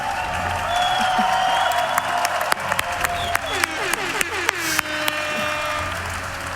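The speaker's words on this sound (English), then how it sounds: "That deserves an applause, yeah." Crowd applause and cheering at a Dota 2 esports grand final arena, a steady loud wash of clapping with sharp claps and whoops throughout, a caster's voice faintly under it.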